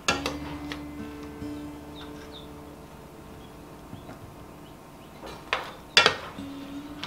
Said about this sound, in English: scoop my zucchini pieces out on to the cutting board so that they can kind of cool down a little bit